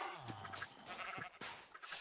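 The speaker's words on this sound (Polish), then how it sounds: "O, masz owce!" A short run of bleating sheep calls in a Minecraft-style survival video game, a couple of nasal cries over soft background noise.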